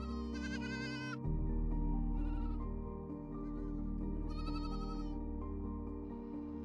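Goats bleat in several bursts in Ethiopia, a loud cry near the start, a shorter one mid-clip and another long bleat later, over steady low background noise.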